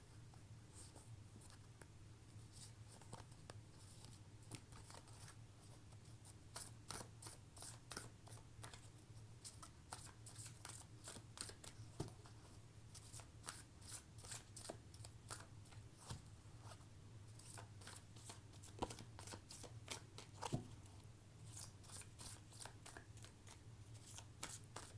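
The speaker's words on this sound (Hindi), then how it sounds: "ओके, कार्ड सफलिंग हो गई" A deck of cards is shuffled close by, giving quiet repeated riffling ticks and snaps for about twenty-five seconds over a steady low hum. No one speaks.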